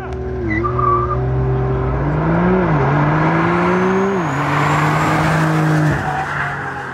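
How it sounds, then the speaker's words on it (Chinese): A domestic Taiwanese-built electric car, the Luxgen N7, launches hard from a standstill, its loud tire squeal and rising drivetrain whine sweeping up and down in pitch over about seven seconds, with no talking. "弹射起步，国产电动车竟能拼过德国跑车"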